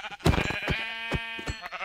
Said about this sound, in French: Il y a des moutons, frérot.